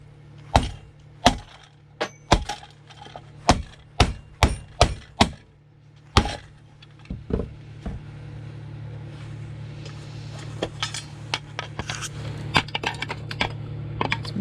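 Sharp metallic hammer blows on scrap metal while a part is knocked out, a run of loud close strikes at irregular intervals, then quieter scattered knocks over a steady hum.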